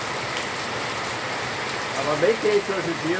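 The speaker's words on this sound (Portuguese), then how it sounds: "Vamos ver essa chuva abençoada pra gente." Rain pours steadily outdoors, a dense close wash of drops on surfaces, with a person speaking over it toward the end.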